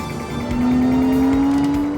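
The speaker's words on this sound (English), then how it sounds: "how about a hot lap with Hurley Haywood, the world's winningest endurance race car driver" A race car on a hot lap at the Amelia Island Concours d'Elegance, driven by endurance racer Hurley Haywood: a loud, close engine note rises steadily as the car accelerates, with no talk.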